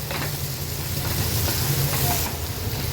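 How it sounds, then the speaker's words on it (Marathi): Onions softened in oil with turmeric stirred in, cooking for a grated red pumpkin sabzi, fry with a steady close sizzle and scraping stir in the pan. "हळद ॲड केल्यावर पुन्हा आपण मिक्स करून घेणार आहोत"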